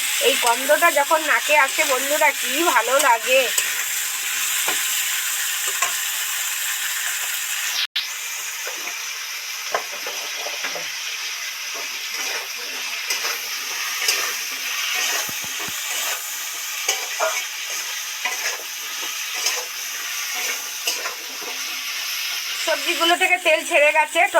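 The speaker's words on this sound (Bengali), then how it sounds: "একটু নুন ছড়া দিচ্ছি নুন ছড়া দিয়ে ভালো করে কষতে থাকবো" Vegetables and salt sautéing in oil with panch phoron and dried chilli for a Bengali parshe fish curry, a bright continuous sizzle with occasional stirring scrapes, and a voice speaking briefly at the start and end.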